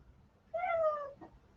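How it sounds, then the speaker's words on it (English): A pet cat gives a single short, rising-then-falling meow indoors, faint and somewhat distant against a quiet background, followed by a small soft sound. "For those you don't know, Hellcat is my kitty cat"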